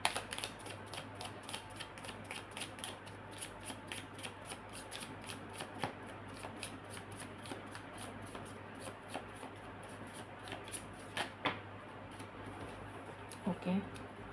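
A deck of tarot cards being shuffled by hand, with dense, crisp riffling clicks repeating steadily for the whole stretch, close and fairly quiet.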